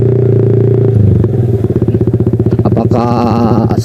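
Yamaha R15 V3 sport motorcycle fitted with a new clutch plate, clutch spring and open exhaust, loud and close, its engine note steady at first, then pulsing and revving with a rough, throbbing rhythm as it rides off.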